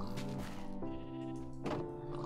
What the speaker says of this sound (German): was macht das Schaf hier?